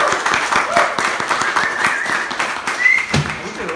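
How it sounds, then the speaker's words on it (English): Audience applause at a live stage magic show as a young woman is called up from the crowd, a moderate patter of hand claps, fairly near and steady, briefly joined by a stray voice. "a massive round of applause for her"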